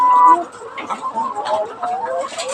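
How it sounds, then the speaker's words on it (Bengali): Chickens in a poultry farm shed, suffering from a lingering cold and cough, give short close clucking and throaty coughing calls in a steady scattered series over a soft farmyard background. "আর মুরগিগুলো কাশি দিচ্ছে এখনো।"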